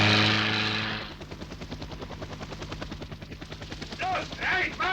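Military helicopters fly a German army helicopter-borne assault during an autumn 1978 NATO exercise in Germany, a loud rhythmic rotor chop that starts under a voice and carries on alone, with brief louder bursts near the end.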